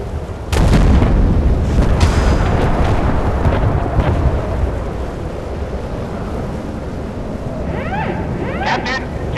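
Missile strike in the naval combat game Force of Warships: a loud, sudden explosive boom followed by a long rolling rumble that slowly fades, with faint crackling debris toward the end.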